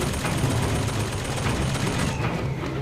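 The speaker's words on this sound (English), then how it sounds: "Those damn turrets, man." Automatic turret gunfire in the video game BioShock Infinite, a steady dense rattle of rapid shots running continuously for the whole stretch, loud and close with no pauses.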